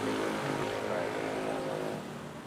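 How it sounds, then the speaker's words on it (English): A fixed-wing airliner taking off at Manila airport at night, a steady, broad engine roar that holds strong and then eases slightly as the aircraft climbs away, with no talk. "As that aircraft was taking off"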